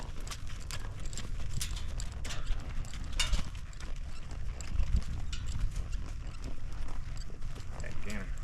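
Horse hooves in a canter lead change during training: a steady, close rhythm of hoof beats on the ground over continuous background noise.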